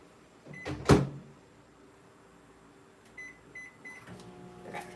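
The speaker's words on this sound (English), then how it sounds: "anytime you're heating and using the microwave for candy melts" A microwave oven heating candy melts: a loud door clunk, then a steady low hum with repeated short beeps near the end, no voices.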